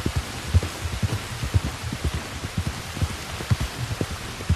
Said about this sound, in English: look at that cold rain coming down.